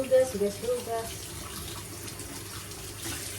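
Tap water runs steadily into a sink while kitchen utensils are rinsed, a continuous close splashing wash with a few brief clinks near the start and faint background voice.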